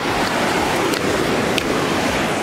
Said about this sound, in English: But we're walking by the ocean.